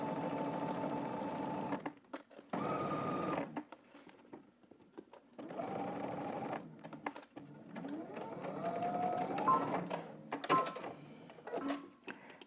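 Sewing machine stitching a pants pocket seam at a 5/8 inch seam allowance, running in several bursts of steady whirring hum separated by short pauses and soft handling sounds.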